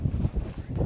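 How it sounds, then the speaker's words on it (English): Outdoor wind buffets the microphone in a low, rumbling roar that swells and dips unevenly, loud and unbroken for under a second. "Hey, it's windy out there."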